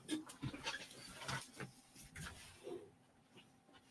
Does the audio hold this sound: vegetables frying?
no